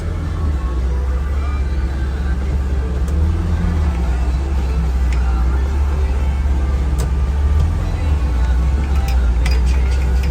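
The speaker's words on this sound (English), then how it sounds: "let's go for a little drive, guys." A 1963 Chevrolet Impala SS cruising along a road, a loud continuous engine and road rumble from inside the car with a deep low drone that swells slightly near the end.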